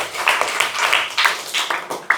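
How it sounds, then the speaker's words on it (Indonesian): Scattered claps from a classroom of students applauding a classmate, a few distinct sharp hits over light murmuring, brief and uneven. "tepuk tangan dulu buat kawannya."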